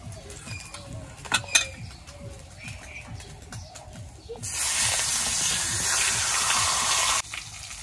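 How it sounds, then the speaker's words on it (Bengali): Rupchanda pomfret fish frying in reused fish oil, starting with faint background and light utensil clinks, then a loud steady broadband sizzle that begins partway through and cuts off near the end. "মাছের তেল দিয়ে মাছই ভাজুন"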